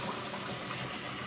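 Cleaning solution pours into the tank of a Bissell Big Green carpet cleaner, a dense, steady splashing gush of liquid filling a container, close and continuous for about a second.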